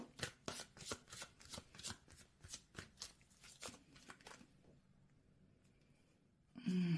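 Tarot cards are riffled and shuffled in a quick run of close, crisp flutters that trail off into near silence, followed by a brief louder thump at the end.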